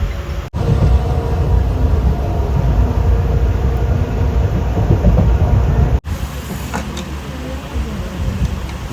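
A departing train rumbles loudly and steadily nearby, with a heavy, constant rolling roar broken by a couple of brief cuts and no talking.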